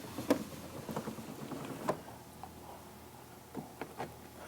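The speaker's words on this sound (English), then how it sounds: "This window, it cranks up" The crank window on a 1948 Ford Flathead V8 sedan is wound by hand, giving faint, irregular ticks and mechanical clicks close by against a quiet background.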